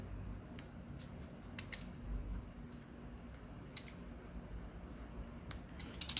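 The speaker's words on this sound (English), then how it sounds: "So now I just need to cut this last little piece." Scissors snip a small piece of adhesive during a Samsung Galaxy S9 screen and back glass repair, giving a few faint, sharp clicks over a quiet room hum.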